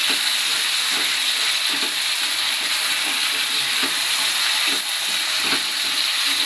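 Potato pieces stirred and frying in hot spiced oil for jeera aloo, a steady close sizzle with repeated soft scraping and clinking of the spoon against the pan.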